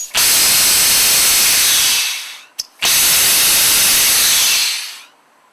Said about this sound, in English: What you just heard was all of the air coming out of here from my blast hose.